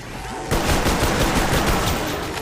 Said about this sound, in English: now I'm going to empty all my ammo into them